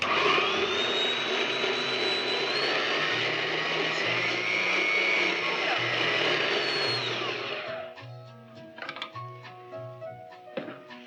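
An Eldom electric kitchen mixer, 1971, with three speeds, whirs steadily at high pitch for several seconds, then cuts off, leaving faint clinks and background sounds.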